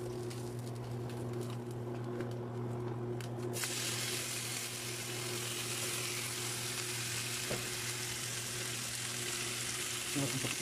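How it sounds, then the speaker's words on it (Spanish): Hot oil crackles and spits in a pan on an induction cooktop, a faint steady sizzle with a low electrical hum underneath that brightens after a few seconds, with no voices. "el aceite de acá ya está caliente y empieza a brincar."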